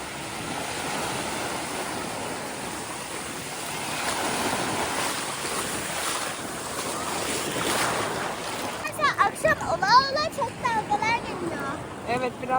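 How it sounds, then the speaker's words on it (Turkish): Sea waves wash and roll steadily with wind rumble, then a person speaks near the end over the surf. "Dalgalar da hızlandı, su soğumaya başladı."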